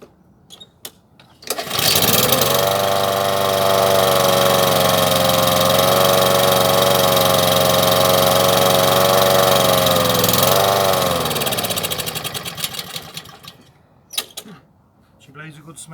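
A petrol lawn mower engine catches after a couple of pulls and runs steadily, close and loud, for about ten seconds before slowing and cutting out, followed by a few clunks.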